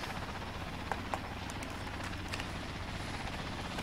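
A helicopter's steady rotor drone throbs continuously, with a few faint clicks on top.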